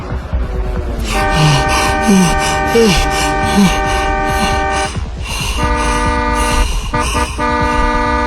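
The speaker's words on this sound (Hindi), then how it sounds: "एक कार के हॉर्न से हाफते हुए अचानक जैसे ध्रुव की नींद टूटी" A car horn blares long and loud with a sustained, layered tone, pausing briefly and sounding again while a voice speaks at the start.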